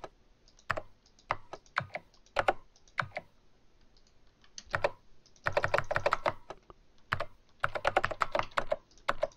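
Computer keys and mouse buttons click during play of the game Organ Trail. The sharp taps come close and in irregular clusters, with short single clicks mixed with denser rapid bursts.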